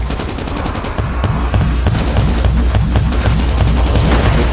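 Sustained automatic gunfire in Call of Duty Mobile zombie mode, a rapid steady stream of loud shots with rhythmic mechanical clatter, growing louder after the first second with no pauses.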